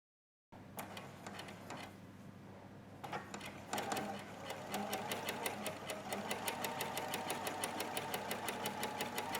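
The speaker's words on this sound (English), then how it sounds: "We will be machining from one shoulder point around the back neck edge to the other shoulder point." A sewing machine slowly stitching a coat from shoulder point around the back neck edge, starting after a short silence with uneven stitches, then settling into a fast, steady, close mechanical rattle.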